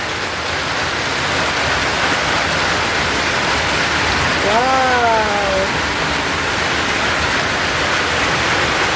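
Steady, loud rain pours down continuously, a dense hiss throughout, with a brief exclaiming voice partway through.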